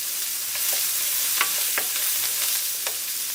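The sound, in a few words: garlic and thyme sizzling in a pan while stirred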